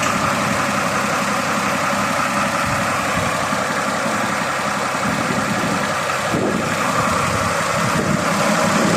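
A Fiat tractor engine with a bad hydraulic leak idles during warm-up, giving a loud, steady, continuous rumble with an even mechanical drone close by and no talking.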